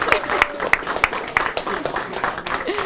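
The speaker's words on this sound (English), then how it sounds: "everyone clap for your teacher because he is this month's Chalkboard champion!" Students applaud their teacher, scattered individual claps in an uneven rhythm, close and moderately loud, with voices mixed in.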